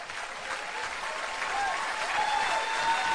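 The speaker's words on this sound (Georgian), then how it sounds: "აპლოდისმენტები უფრო ხშირი" A studio audience applauds during the finale of a television show season, a steady, dense patter of clapping that grows slightly louder toward the end.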